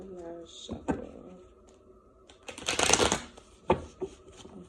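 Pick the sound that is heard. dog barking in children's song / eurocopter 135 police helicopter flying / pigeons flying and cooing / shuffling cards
shuffling cards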